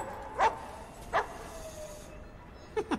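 A cartoon dog barks in a Grinch animation: three short, sharp yips spaced apart, the last two coming in quick succession, close and clear over a quiet background.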